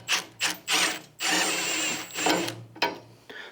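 A 5.5mm hex key, likely on a ratchet or power driver, works a lower saddlebag mount bolt beside the primary on a Harley Low Rider S/ST, in short bursts of ratcheting and whirring, close and without talk.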